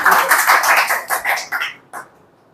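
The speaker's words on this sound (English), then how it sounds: "give a huge round of clapping for him" An audience in a spoken-English classroom claps for a speaker, a dense burst of clapping that thins into a few scattered claps and fades, fairly loud and close.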